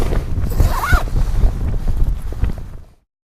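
A zipper on a Polarmond tent being drawn closed outdoors, a ragged, scratchy run lasting about three seconds with wind buffeting the microphone underneath.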